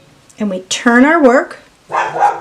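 A pet dog gives a few short, close barks and yips, interleaved with a woman's speech.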